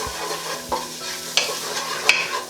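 A spoon stirs lentil chili with smoked paprika in a pan, a few close scraping strokes over a low, steady sizzle, with two sharper metallic clinks near the end.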